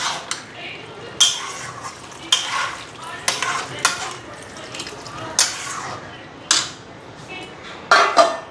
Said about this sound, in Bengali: আগে কয়েকটা পরোটা ভেজে নিই